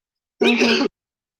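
A single short, sharp human sneeze brought on by pepper in the nose, abrupt and close, with silence before and after.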